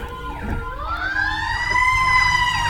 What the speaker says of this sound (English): sirens going around